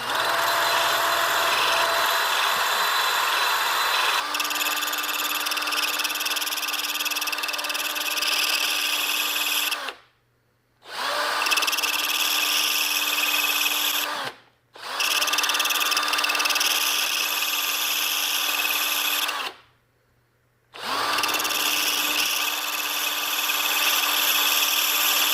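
A power drill whirs steadily while decapping LS-type fuel injectors, running in three long bursts with brief silent pauses between them, loud and close with no talking.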